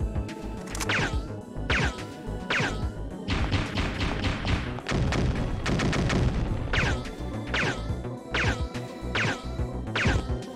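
Enemies firing guns in Parasite Eve 2, a string of sharp metallic shots in uneven bursts and rapid volleys with heavy thuds mixed in, loud and close.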